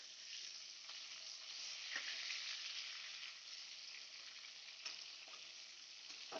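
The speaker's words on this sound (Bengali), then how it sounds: "মাছগুলো আমি কড়াইতে দিয়েছি, এবার হালকা লাল করে ভেজে নেব।" Katla fish pieces fry in oil in a kadai, a steady bright sizzle with a few soft clicks of the pan, faint but continuous throughout.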